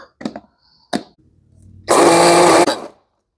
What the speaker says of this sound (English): Let me see if I can find the smaller food processor.